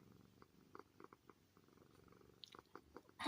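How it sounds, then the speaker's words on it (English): An old cat purrs while nuzzling, a soft, steady rhythmic rumble heard very close and quiet, with no talking over it. "She's an old cat and she still does that nuzzling."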